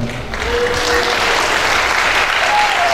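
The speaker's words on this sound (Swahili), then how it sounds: "Hayo makofi ya washindi wanaweza wakapiga vigelegele vya shangwe na furaha" A church congregation applauds during a morning service, dense sustained clapping from many hands filling the space at high volume for nearly three seconds.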